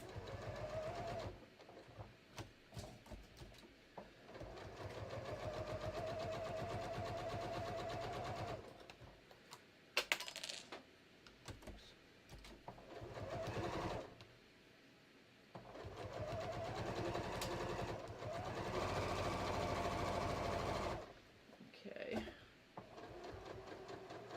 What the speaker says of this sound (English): I'm just going to serge past that little tail that was hanging out there